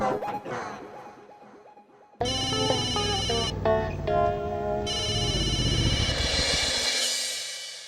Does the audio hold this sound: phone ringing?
yes